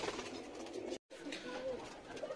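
Madrasi pigeons coo in a soft, continuous low murmur, broken by a brief gap of silence, with faint higher calls and background noise around them.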